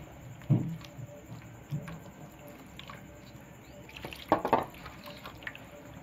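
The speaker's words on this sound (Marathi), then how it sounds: "ह्याला व्यवस्थित असं हाताने कालून घ्यायचं" Soft, wet squelching and dripping as flour and water are worked together by hand for shengole dough, in a few short bursts against a quiet background.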